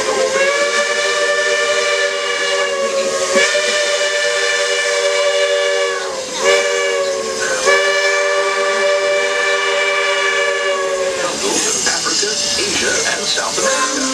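A Walt Disney World Railroad steam locomotive's whistle blows long, steady chords with brief breaks, over hissing steam and rumbling train noise.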